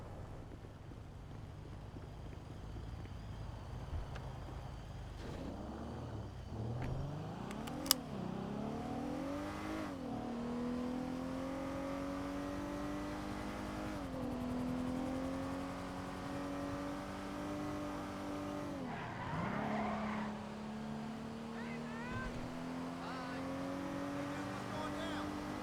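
A car drives and revs in a GTA roleplay game, the engine note climbing and dropping through several accelerations with gear shifts, steady and close, while people talk over it.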